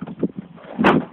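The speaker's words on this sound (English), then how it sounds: "Try and close this stupid door" A stubborn wooden shed door holding plywood and chipboard is pushed shut with a few soft knocks and scrapes, then one louder thud as it closes, near and alone.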